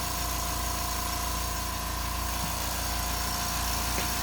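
A quiet shop air compressor feeding a sprayer line at 70 psi runs in a constant low, steady hum with no pauses or other sounds.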